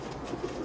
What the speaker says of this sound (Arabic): هذني طيور بغداديات خط طول درجه اولى.